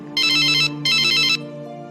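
A telephone rings in two loud electronic bursts, each about half a second, as a sound effect in a narrated story, with a steady low tone continuing underneath and no voices.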